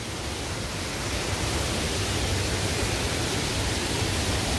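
Ganeso waterfall in the Baekmudong valley of Jirisan, heard from a trail above the falls as a steady, dense roar of rushing water with no voices.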